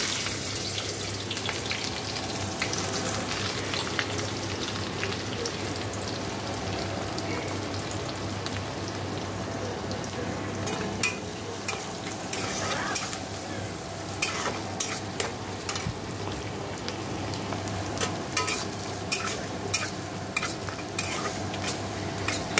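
Chopped onions, whole garam masala spices and dried red chillies fry in a pan for ghugni, a steady close sizzle with a low hum beneath and scraping and tapping from stirring that grows more frequent toward the end.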